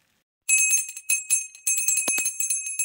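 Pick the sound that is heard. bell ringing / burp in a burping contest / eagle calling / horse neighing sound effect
bell ringing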